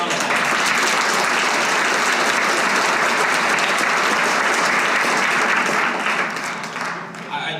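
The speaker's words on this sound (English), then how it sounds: "give her a round of applause" A live event audience breaks into sustained, dense applause, loud and even for several seconds before tapering off at the end.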